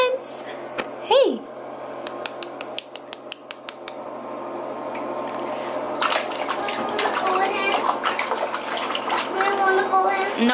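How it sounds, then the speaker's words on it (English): An eight-month-old baby splashes water in a bath, with bursts of slapping and splashing that grow busier and louder toward the end, mixed with the baby's squeals and an adult voice nearby. "Splashing all over the place."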